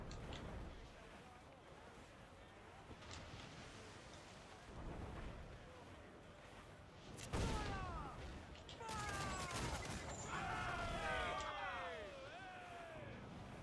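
Ship cannons fire in a naval battle from Assassin's Creed Black Flag, with booming volleys over wind and ocean surf, and shouting voices around the blasts.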